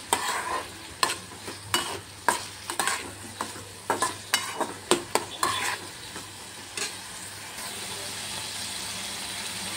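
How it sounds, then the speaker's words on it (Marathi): Brinjal vegetables stir-fried in a pan over medium gas: a spatula knocks and scrapes in a quick, regular rhythm over steady sizzling, then the stirring stops and only the sizzle continues. "थोडा मीडियम गॅस करून परतवून घ्यायचं आहे"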